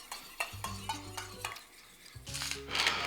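A spoon works olive oil into an orange-based dressing in a bowl, producing quick scraping stirs and light clinks, close and fairly quiet, with soft background music.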